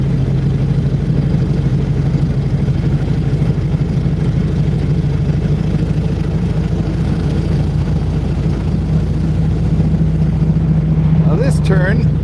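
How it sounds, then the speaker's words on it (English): A Flivver car engine pulling at full throttle up a hill, a loud, steady, low drone with a constant hum that runs through the whole clip, close and continuous. "Full throttle up the hill."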